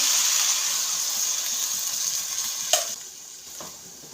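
Cauliflower masala sizzles and hisses loudly in a hot pan as water is poured in, with a sharp clatter near the end as the steady fry settles and fades slightly.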